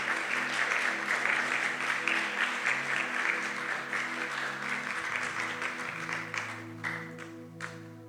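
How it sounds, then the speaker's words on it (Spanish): Church congregation applauding during a pastors' conference, a broad wash of clapping over sustained musical tones that gradually thins toward the end, with a few scattered claps remaining. "Un aplauso."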